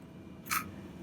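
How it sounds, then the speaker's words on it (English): One sharp, close snip as wire cutters bite through a length of wire, a single crisp click in an otherwise quiet moment. "And I'll snip it."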